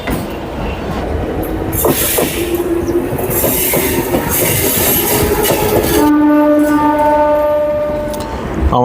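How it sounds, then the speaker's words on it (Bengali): A Medinipur local train rolls into Santragachi junction near Howrah, loud rumbling and wheel clatter giving way to a long blaring horn near the end, with a few faint squeals. "আমাদের ট্রেন ঢুকছে সাঁতরাগাছি জাংশনে"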